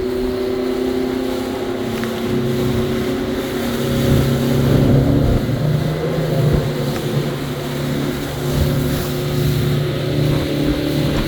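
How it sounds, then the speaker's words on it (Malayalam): A speedboat ride on Mattupetty Dam in Munnar, the motor droning loud and steady with a low hum, water rushing and wind buffeting the microphone throughout, no talking. "അങ്ങനെ ഞങ്ങൾ സ്പീഡ് ബോട്ടിൽ കയറി."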